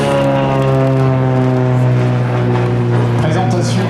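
A Beech Bonanza propeller airplane of about 1,450 kg flies an aerobatic display at the 2018 Biscarrosse international seaplane gathering. Its steady, loud engine drone holds throughout while a voice talks over it.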